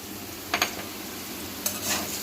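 Curry leaves and poppy seeds fry in hot oil with a soft steady sizzle and two or three quick scraping stirs of a spatula close by.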